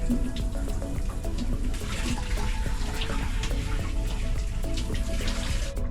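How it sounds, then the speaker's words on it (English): Shower water runs in a cramped cabin on an Amtrak sleeper train, a loud, steady hiss and splatter that continues unbroken throughout with no voices. "So a really quick shower because the water doesn't appear to be draining."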